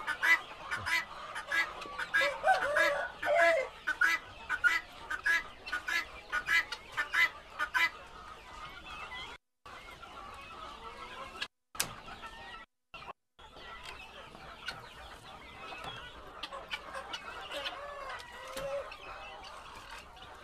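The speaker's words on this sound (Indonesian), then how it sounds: "Yang bunyinya berisik ini dari yang sebelah, ayam mutiara." Guineafowl cackle noisily in repeated harsh bursts, loudest early on, then calling continues more sparsely with brief gaps of quiet.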